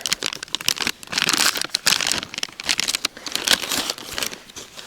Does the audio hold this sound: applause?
no